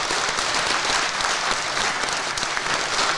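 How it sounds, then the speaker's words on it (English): Audience applause at a live car show recording fills the space, a dense, steady wash of many hands clapping at close range for the full few seconds, with no talking over it. "give yourself a round of applause"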